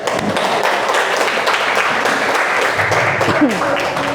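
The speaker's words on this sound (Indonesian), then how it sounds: "Akbar, tepuk tangan dulu." A classroom of students claps together during a lesson on blood circulation. The dense, busy clapping runs throughout, with voices mixed in underneath.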